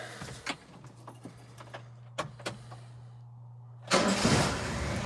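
A car engine cranks and catches after its carburetor fuel bowl fills, then settles into a loud, rough idle, preceded by scattered clicks and handling noises in a quiet space.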